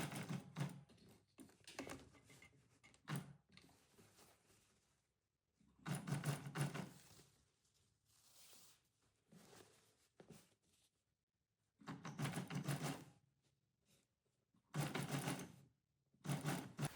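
A sewing machine stitches piping tape onto a blouse collar in several short, rapid rattling bursts separated by quiet pauses, faint and close.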